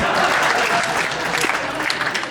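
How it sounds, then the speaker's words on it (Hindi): An audience at a Hindi comic poetry recital bursts into loud, sustained applause, a dense wash of clapping from many hands that stays strong before easing slightly. "तालियों का बैलेंस हो जाए तब बढ़िया, जोरदार तालियां बन जाए"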